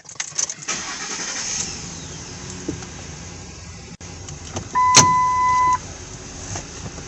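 A 2008 Ford F-150 STX 4x4 pickup starting up, with a cranking burst and a chime, then the engine idling and pulling away, heard close from inside the cab.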